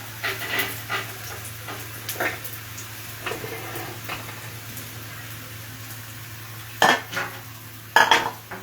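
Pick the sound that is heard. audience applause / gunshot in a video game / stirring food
stirring food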